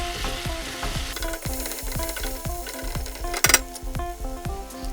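Frying food for a Mauritian sea bream and aubergine fish curry is stirred in a pan with a steady sizzle, each stroke of the utensil scraping out a regular rhythm, plus one sharp clatter partway through.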